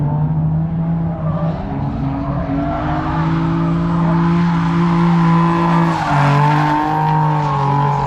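A race car's engine drones loudly as its tires lock up and skid during drifting at a racetrack, the pitch wavering and dropping near the end.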